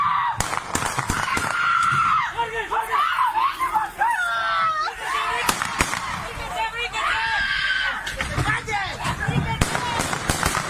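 Sharp gunshot cracks break out repeatedly in an outdoor scene of news footage, scattered among screaming voices and frantic shouting from people running.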